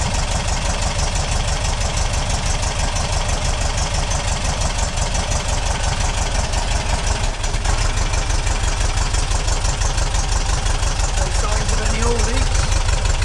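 A car engine runs continuously on its first start, a steady loud idle with a rapid rhythmic knock throughout, and a voice speaks briefly near the end.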